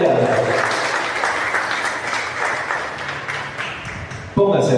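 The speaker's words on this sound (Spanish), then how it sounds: "Den ese aplauso al Señor, aleluya." Church congregation applauding during a sermon, a broad wash of many hands clapping, steady and then fading, before a voice cuts in at the end.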